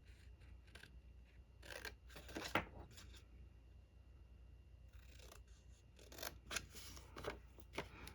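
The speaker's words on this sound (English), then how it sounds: "we're going to cut up those score lines." Scissors cut a cardstock treat box lid along its score lines in two quick bursts of crisp snipping, close and quiet, with soft rustling of paper between the cuts.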